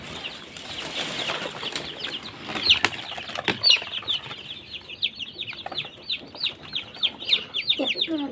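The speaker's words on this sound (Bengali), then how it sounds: "এই যে এগুলো হচ্ছে ব্রুডিং এর বাচ্চা আমি রেখেছি" Incubator-hatched chicken chicks in a brooder, a crowd of high, rapid cheeping calls close by, with some rustling and wing flutters underneath.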